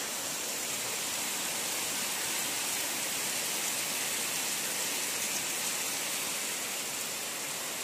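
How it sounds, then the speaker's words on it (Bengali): Heavy monsoon-style downpour, a dense, unbroken roar of rain that stays loud and even throughout with no talk. "দেখো কেমন মুষলধারে বৃষ্টি।"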